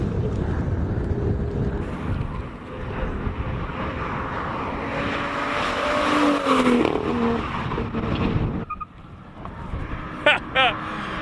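A manual BMW M2 climbs a hillclimb course, its engine droning and rising in pitch before a gear change, the note dropping sharply near the end, with a commentator talking over it throughout.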